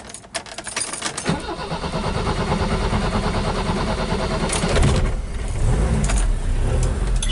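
Engine of a 1976 BMW 2002 with a 5-speed gearbox running steadily on a road test drive, a continuous close drone with a brief rise in revs near the end, no talking.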